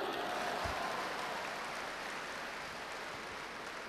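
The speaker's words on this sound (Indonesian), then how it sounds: "Andri Wongso, tepuk tangan dulu." Audience applause at a motivational seminar, a steady wash of many hands clapping, fairly distant and even throughout.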